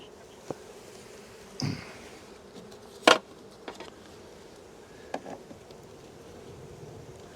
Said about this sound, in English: Nice and calm bees.